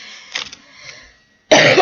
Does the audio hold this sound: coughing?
yes